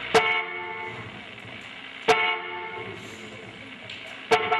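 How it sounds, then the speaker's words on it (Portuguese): A car horn blares in three sharp honks spaced about two seconds apart over a steady tonal drone. "começa a buzinar incansavelmente."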